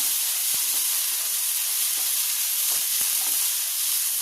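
Flattened rice upma is stirred in a pan on a low flame, giving a steady close sizzle and hiss with a few soft scraping taps of the spoon.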